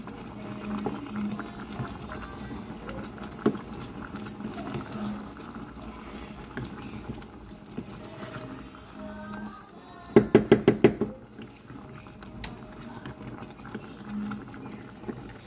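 Shrimp boiling in a pot of water, with a low steady bubbling throughout, faint and close, broken by a quick cluster of clinking knocks partway through.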